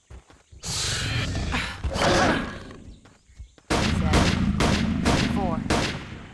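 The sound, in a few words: gunfire from single-use guns in Half-Life mod video game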